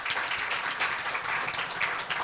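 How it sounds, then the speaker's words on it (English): Audience applause for the speakers at a regional accountability forum, a dense, steady wash of many hands clapping that holds even for about two seconds without voices. "could we have a big round of applause for all of our speakers?"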